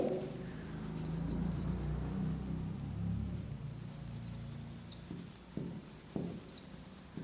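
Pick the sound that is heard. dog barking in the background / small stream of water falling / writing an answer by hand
writing an answer by hand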